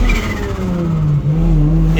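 A single-turbo BMW N54 engine running with a misfire and lean condition, a loud continuous low drone with steady harmonics and a brief stumble partway through, heard alone up close.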